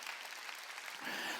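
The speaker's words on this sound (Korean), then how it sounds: "박수로 하나님께 영광 돌려요" A church congregation claps during a Sunday worship service, a brief burst of faint, even applause heard from a distance.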